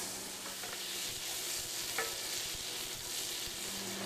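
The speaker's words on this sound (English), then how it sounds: "I'm going to add this butter to the pan. Let that melt nicely" Butter melts and sizzles in a pan while fried chicken is being made, a soft steady frying hiss with faint low stirring rumbles underneath, close but fairly quiet, no talking.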